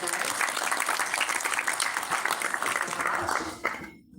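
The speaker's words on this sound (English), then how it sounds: "Let's get a round of applause." Applause from a conference audience after a speaker's remarks, a steady dense patter of many hands clapping continuously before fading out near the end.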